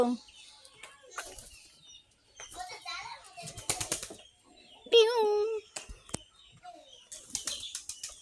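A flock of pigeons bursts into flight with loud flapping wings at a backyard coop after a chicken startles them, while children and adults talk close by.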